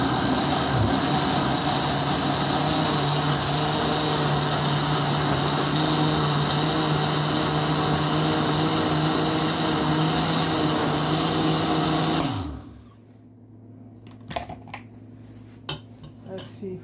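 A stick blender whirs steadily and loudly through a pot of hot tomatoes being puréed for homemade ketchup, a constant motor drone for about twelve seconds before it cuts off, leaving scattered clinks and knocks of the pot.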